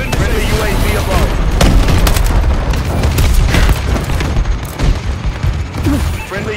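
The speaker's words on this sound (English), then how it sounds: "Friendly bombing run clearing the way." Repeated explosions from a friendly bombing run in Call of Duty: Advanced Warfare, loud rolling booms and blasts mixed with gunfire and game voice chatter throughout.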